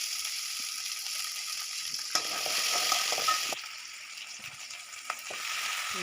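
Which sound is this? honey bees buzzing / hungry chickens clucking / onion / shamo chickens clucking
onion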